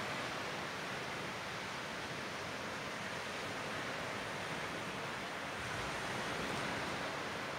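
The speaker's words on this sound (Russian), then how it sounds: "Какая рябь, какие волны." Broad, steady wash of sea waves with constant rippling surf at a resort shore in Zatoka, Ukraine, continuous and even throughout with no voices over it.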